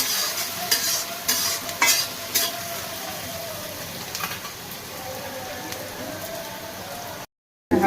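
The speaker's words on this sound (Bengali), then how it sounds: "খুব ভাজা করবো না, হালকা একটু ভেজেই আমি এর মধ্যে চিকেনটা দিয়ে দেবো।" Spices lightly frying in a pan before chicken goes in, a soft steady sizzle with occasional louder scrapes of stirring, ending in a brief silence and a final burst.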